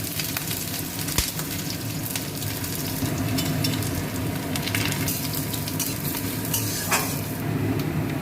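Onion, crushed lentil bori, dry red chilli and panch phoron sizzle steadily in hot oil while tempering dal, with a continuous dense crackle, a couple of sharp spatula knocks against the pan, and no talking.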